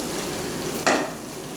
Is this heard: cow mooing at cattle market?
no